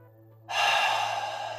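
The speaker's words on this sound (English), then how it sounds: "And so, deepen your breath." A single deep, long breath swells in after a quiet moment during a guided shamanic meditation, close and breathy, filling the rest of the moment alone with no talking.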